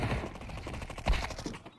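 Rapid bursts of game gunfire rattle continuously, a dense automatic volley with mechanical clatter and no voices.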